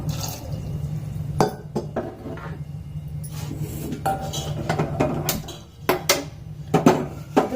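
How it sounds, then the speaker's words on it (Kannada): Water is poured into a pot of jaggery to make syrup for coconut obbattu. A light liquid splash mixes with sharp clinks and clatters of metal vessels and utensils, in irregular bursts at close range. "ಸ್ವಲ್ಪ ನೀರು ಹಾಕಿ ಸಾಕು"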